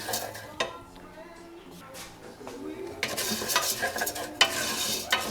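Rice being stirred and toasted in a little oil in a pan, early in making squid-ink risotto: steady scraping stir and soft sizzle with utensil clinks, growing busier and louder in the second half, no talk.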